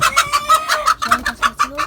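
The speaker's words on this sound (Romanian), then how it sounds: "Uite aici o găinușă." A hen clucks close by in a rapid, rhythmic run of short, loud clucks and rising calls, heard alone without any talking.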